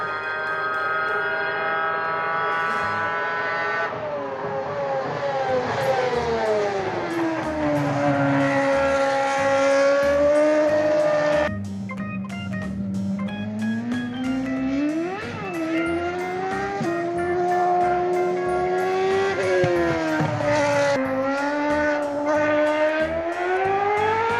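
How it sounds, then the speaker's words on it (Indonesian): A Formula One race car engine revs loudly and continuously, its high whine sweeping up and down in pitch over and over, with no talking. "Di sini ada mobil Formula One."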